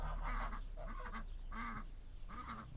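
A duckling on a farm in a goose valley gives four short repeated calls, close and fairly soft, spaced evenly about half a second apart with a low background hum.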